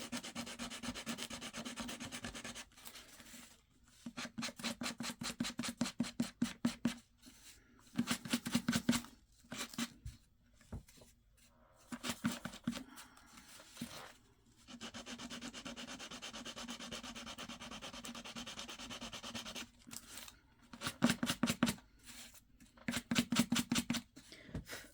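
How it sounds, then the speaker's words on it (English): Close, quiet sanding of Scrabble letter tiles comes in bursts of rapid back-and-forth rubbing strokes separated by short pauses. "let me sand these off"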